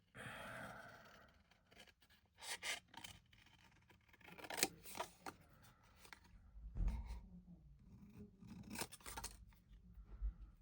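Scissors cutting out fabric, a series of close, crisp snips and rustles coming in irregular bursts with quiet handling between them.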